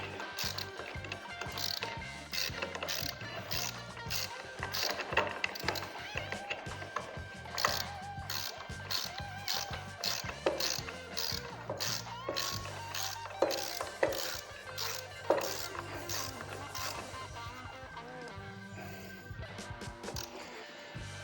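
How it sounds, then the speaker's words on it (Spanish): A ratchet clicks steadily in quick, repeated strokes as it tightens a castellated nut with a 17 mm socket on a Vespa TX200 scooter engine under restoration, the mechanical clatter close and continuous with faint background hum. "con este útil apretamos la tuerca almenada. Y se aprieta con una 17."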